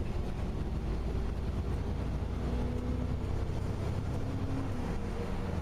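A bus engine runs in third gear with the clutch engaged, giving a steady, unbroken low drone with a dense rumble throughout and no voices.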